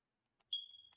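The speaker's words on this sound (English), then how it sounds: "Someone needs to change their smoke detector" A single smoke detector chirp rings out as a sustained high-pitched electronic beep, starting abruptly and holding steadily, quiet and somewhat distant, with brief faint clicks around it.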